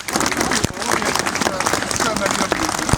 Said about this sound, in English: we should have Frank a round of applause